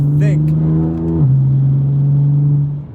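A 2015 BMW M4 engine pulls hard under acceleration, its steady drone rising in pitch before a gear change drops it and it climbs again, loud and close throughout.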